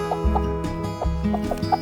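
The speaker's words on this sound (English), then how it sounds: "Help me round up these chickens." Homestead chickens in the Spanish hills cluck close by in quick, repeated bursts, several short calls overlapping with no talking.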